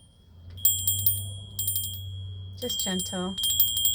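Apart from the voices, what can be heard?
fairy bells ringing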